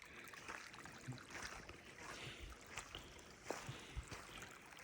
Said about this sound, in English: Water sounds nice